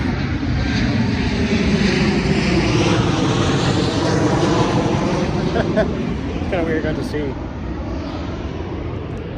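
A fixed-wing airplane roars loudly and continuously overhead close to an airport, its engine drone filling the whole stretch and easing slightly toward the end while someone talks over it.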